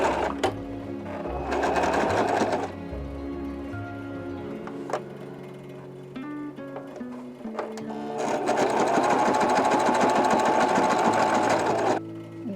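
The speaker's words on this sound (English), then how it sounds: "I might put another line of stitching here just to help hold it together" Sewing machine stitching fabric for a capster hat, running in two loud rhythmic bursts with a quieter pause of handling and clicks between them, close up, no talk.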